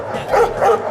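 Old dogs at a dog refuge bark in two loud, close bursts about a third of a second apart, with no voices.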